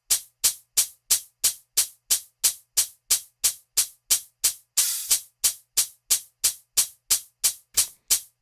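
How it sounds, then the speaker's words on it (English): Layered hi-hats tick in a steady, simple quarter-note pattern, each hit crisp and quickly decaying, with one longer open hat washing out midway; dry and alone with no other instruments. "for the hi-hats, it's just 2 layers doing a simple 4th pattern"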